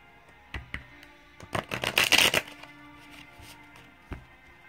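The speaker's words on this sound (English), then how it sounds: "let me shuffle again" A deck of cards is riffled and shuffled in a quick burst of crisp flutters, with a few sharp taps before and after, close to the listener.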